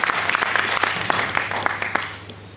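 Dense applause from an audience at a leadership training session fills the room steadily for a few seconds, with many hands clapping close together and no voices on top.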